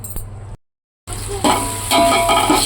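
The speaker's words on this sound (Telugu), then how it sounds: "ఐదు పచ్చిమిర్చి కూడా వేసుకోవాలి బాగా వేయించుకోవాలి" Green chillies fry in hot oil for a pulao, with a steady close sizzle and a spoon stirring and scraping the pan, broken by a brief silent cut.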